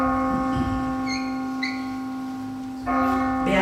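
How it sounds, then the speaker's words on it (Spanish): A clock bell strikes, its sustained ringing tone humming steadily with a fresh stroke near the end, heard with no talking. "Las 12 sonaron en el reloj del postigo."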